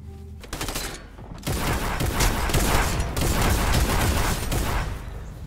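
Sustained rapid gunfire in Fortnite, a dense, loud, nearly unbroken stream of shots and booms at close range, without pauses.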